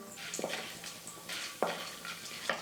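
Mustard seeds crackle and sizzle in hot oil, with soft scraping stirs and a few sharp pops against a pan.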